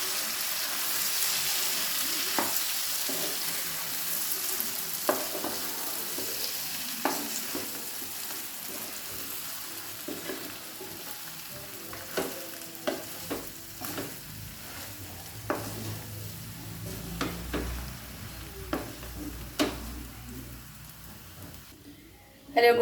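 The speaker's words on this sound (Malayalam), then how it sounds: "നന്നായിട്ട് തന്നെ ഇളക്കി കൊടുക്കാം." Boiled tapioca is stirred into a mustard seed tempering, with a soft steady sizzle and repeated scraping clicks from the spoon against the pan, irregular and close.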